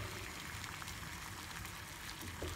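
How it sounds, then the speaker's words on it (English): Salted water at a boil in a pot on the stove, a soft continuous bubbling and hissing that stays steady and fairly quiet, with no voices. "So the water has come to a boil."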